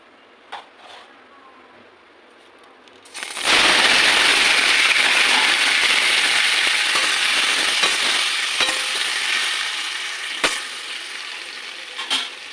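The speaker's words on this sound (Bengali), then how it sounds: "সামান্য একটু তেল দিয়েছি। এবার টমেটোগুলো আমি ছেড়ে দেবো," Tomatoes dropped into a pan with a little oil for a sweet chutney burst into a loud, steady close sizzle after a few quiet clinks, then ease slightly with occasional utensil taps.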